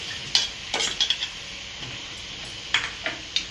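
Finely chopped green chilies sizzling in a frying pan for a chapathi veg roll, with a steady hiss and several sharp clinks of a spoon stirring against the pan.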